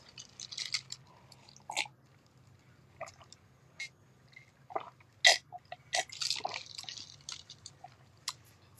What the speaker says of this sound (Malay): Jadi aku minum air sekejap.